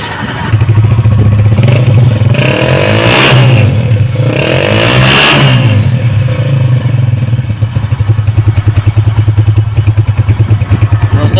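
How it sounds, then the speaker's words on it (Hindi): A 2011 Honda CG 125 motorcycle idles close by with a steady low exhaust thump from the silencer, rising twice in quick throttle revs before settling back to an even, rattly idle. "अब इसका सिलेंसर का साउंड भी इसी तरीके से चेक कर लेते हैं"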